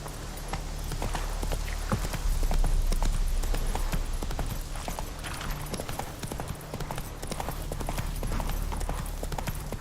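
Hoofbeats of Roach, a galloping horse in Witcher 3, a steady fast clip-clop that runs throughout at moderate level over a constant game ambience.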